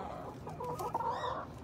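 A chicken near its nest gives soft, close clucks, a short run of murmured calls over quiet rural background.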